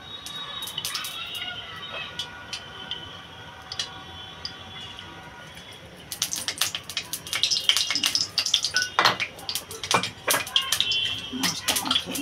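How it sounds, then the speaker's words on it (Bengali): Mustard oil poured into a hot wok for frying hilsa fish, a quiet trickle at first, then a louder burst of crackling and spattering sizzle that pops rapidly and irregularly close by. "দিয়ে দেবো সরষের তেল।"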